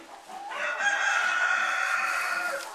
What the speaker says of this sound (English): Well, eat up, little chickens.